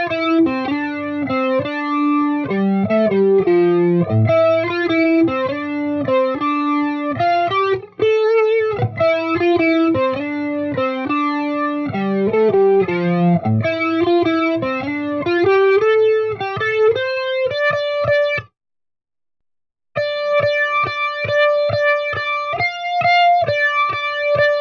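A slow, deliberate run through a guitar solo on electric guitar with effects, clear sustained notes stepping and bending one after another, a brief silent gap near the end before the final phrases ring out alone.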